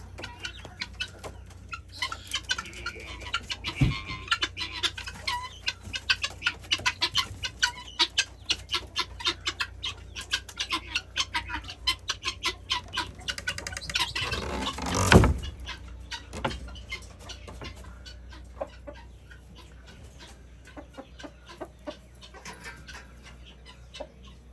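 Guinea fowl calling on a farm, a long run of repeated harsh, rhythmic clucking cries at mid distance, with a sharp louder burst of commotion partway through before the calls ease off.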